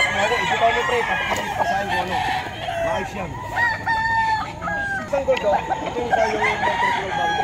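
Lemon sweater gamefowl roosters at an early-morning pet market in Bocaue, Bulacan, crowing repeatedly in overlapping calls with clucking, loud and close amid busy market chatter.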